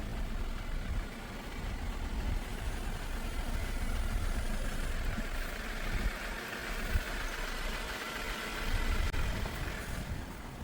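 A Jeep engine drives slowly over a gravel driveway to pack it down, a steady low rumble with crunching gravel underneath, close and continuous and without speech.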